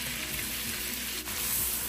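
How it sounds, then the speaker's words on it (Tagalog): Butter and garlic sizzle steadily in a hot pan, a constant bright crackling hiss at moderate volume with no voices over it. "Habang natutuno yung butter, kailangan na natin ilagay yung bawang para di masunog ang ating butter at ang ating bawang."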